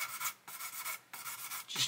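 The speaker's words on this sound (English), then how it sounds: "just gently going in and sanding." Sandpaper rubs gently over the stern of a 1/200 Trumpeter Scharnhorst plastic ship model in repeated short back-and-forth strokes, a soft close scratching with small pauses between passes.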